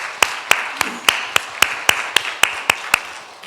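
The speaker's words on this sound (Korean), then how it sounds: "축하의 박수를 한번 하겠습니다" Congregation in a church service gives a short round of celebratory applause for a wedding, heard as about a dozen evenly spaced sharp claps at a steady rhythm, fairly close and moderately loud, with no voices over it.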